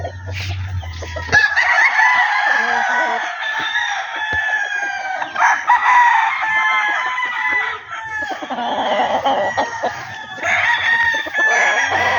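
Young fighting stag roosters on a game farm crow repeatedly and cluck, several birds overlapping in a steady, loud chorus that runs throughout.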